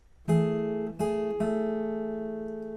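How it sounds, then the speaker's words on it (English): Acoustic guitar notes from a song's riff plucked in three quick strokes, the strings ringing out and sustaining clearly afterward, with no voices. "And altogether, that 4th position will sound something like this."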